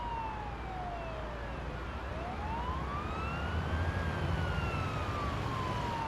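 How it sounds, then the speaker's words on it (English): An ambulance siren in the driving game Ambulance Life, a slowly rising and falling wail over a steady engine and road rumble, moderately loud and continuous, with no talking. "Use the siren as needed."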